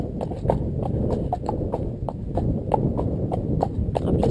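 A ridden horse's hooves clip-clop in a steady, even walking rhythm, close and clear over a low rumbling background, with no talking.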